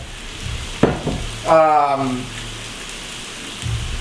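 Sweet potatoes fry in a pan with a steady close sizzle, broken by a brief scraping stir around the middle and a few soft knocks.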